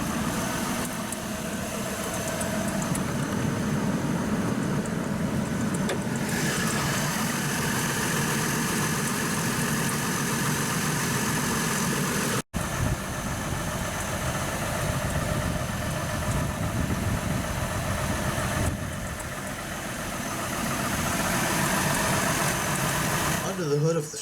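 A 2005 Chevrolet TrailBlazer LT's Vortec 4200 4.2-liter DOHC 24-valve naturally aspirated inline-six idles steadily and fairly loud, a low continuous rumble heard close up. Someone talks over it throughout.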